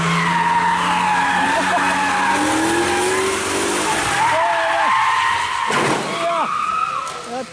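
A car skidding and losing control while attempting to drift on the Nürburgring, with loud continuous tire squeal and engine noise rising and sliding in pitch, ending in a chaotic burst that suggests an impact, with voices faintly underneath.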